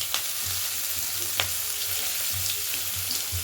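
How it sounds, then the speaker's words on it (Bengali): Chopped onion sizzles in hot oil in a pan alongside pieces of already fried fish for a Bengali mustard fish dish, a steady close frying hiss with a few soft stirring clinks, no voices. "ভালো করে মাছটাকে ভেজে নিলাম কেটে রাখা পেঁয়াজটা দিয়ে দিলাম"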